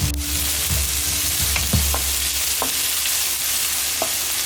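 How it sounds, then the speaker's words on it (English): Chopped onions, ginger and garlic fry in hot oil in a pan, with a loud, continuous sizzle and occasional scrapes and taps from stirring. "you add all of the onions, ginger and garlic together and let that fry off a little bit"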